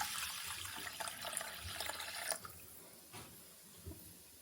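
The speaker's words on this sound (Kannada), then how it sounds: "ತೊಳೆದಿರೋ ದೋಸೆ ಅಕ್ಕಿಗೆ ನೀರು ಸೇರಿಸ್ಕೊಳ್ಳೋಣ." Lukewarm water is poured onto washed dosa rice, a faint, close wash of running liquid for about two seconds that then tapers off into quiet drips.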